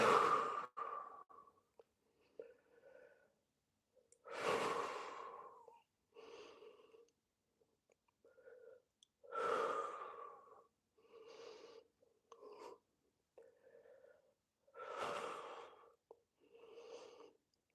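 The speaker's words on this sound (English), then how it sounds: "Breathing deeply." Deep, slow breaths during a gentle core workout hold, each long exhale audible close up, repeating in an even rhythm with quiet pauses between.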